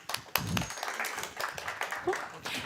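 An audience at a tech startup pitch event gives a short round of applause, uneven clapping from a modest crowd with sharp hand claps early on, mixed with scattered voices.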